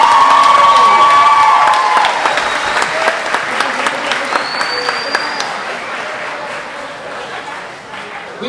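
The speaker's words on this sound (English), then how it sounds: "Ladies and gentlemen, another round of applause for the graduating class of" Audience applause and cheering at an 8th grade graduation ceremony for the class of 2023, loud and dense at first with a few whoops, then gradually thinning and fading over several seconds.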